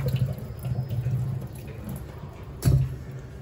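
Raw mango pieces for moramba are lifted out of hot water, with a steady low slosh and trickle and one brief, louder splash near the end; no talking.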